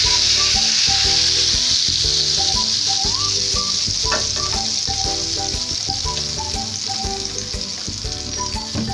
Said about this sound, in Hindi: तो अब मैं इसमें तड़का लगा देती हूँ।